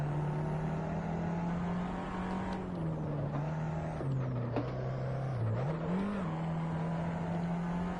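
An Abarth 500 EsseEsse in Assetto Corsa drones steadily on a race lap at Barcelona, its engine note dipping and rising as the throttle and brake are pumped through a turn.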